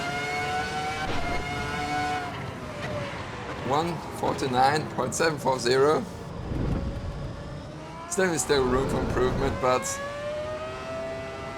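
A Ferrari F2004 Formula 1 car in Assetto Corsa EVO screams at high revs, its engine note rising and dropping through rapid gear shifts, loud and close, while someone talks over it.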